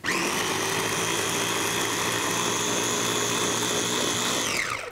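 An electric kitchen food chopper purees soup with a steady, loud motor whir that runs continuously for several seconds, then its pitch drops as it shuts off at the end.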